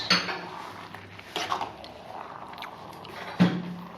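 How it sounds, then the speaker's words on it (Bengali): A spoon clanks and scrapes against a pan while a mixed winter vegetable curry of beans and carrots gets stirred, with a few sharp metallic knocks spaced apart over quiet background. "এবার এটাকে ভালো করে নাড়িয়ে মিশিয়ে দেওয়া হবে"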